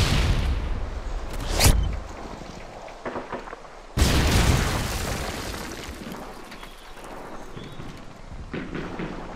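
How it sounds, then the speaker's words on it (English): A stun grenade detonates in a Call of Duty Search and Destroy match, a loud broadband bang at about four seconds following an earlier sharp crack, then a long rumbling, decaying tail with scattered in-game noise. "Tossing stun grenade."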